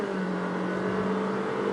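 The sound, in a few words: Honda WR-V car accelerating, engine revving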